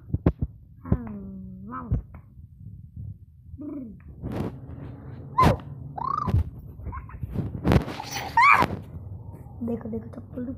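A dog gives short whimpers and rising yips, close and scattered across the moment, mixed in with bursts of people talking.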